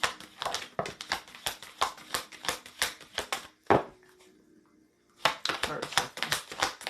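Rapid crisp flutters of cards being shuffled come in two busy bursts, separated by a brief lull with a faint tone.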